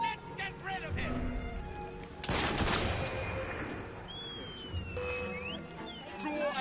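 Gunfire in Assassin's Creed Syndicate, a sharp burst of shots cracking out midway through, set among in-game shouting voices and other game effects.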